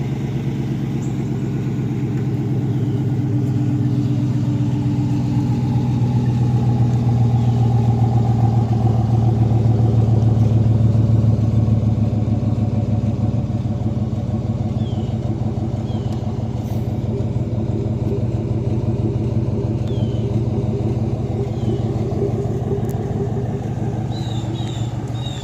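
Chevrolet Trail Boss truck engine with a muffler delete and flex pipe, a loud, rumbling, throaty idle that holds steady, swells slightly mid-way, then settles, close and alone without talk.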